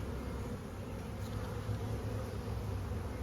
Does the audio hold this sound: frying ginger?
no